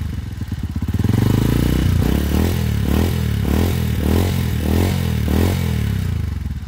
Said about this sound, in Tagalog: Medyo maingay na rin pala. Oh. Timing gear.